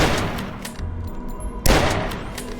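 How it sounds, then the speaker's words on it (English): In the video game DUSK, a hunting rifle fires two sharp booming shots with a gap between them, each shot followed by a decaying echo and mechanical handling sounds. "like when you shoot your hunting rifle,"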